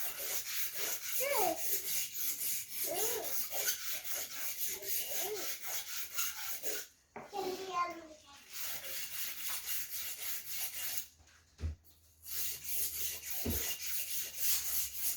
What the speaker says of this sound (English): So this is the coarse side first. You just want to rub it till it's nice and flat.